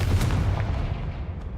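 Confringo fire spell cast in the Hogwarts Legacy video game, a loud, booming blast with a heavy low-end rumble that decays over a second and a half.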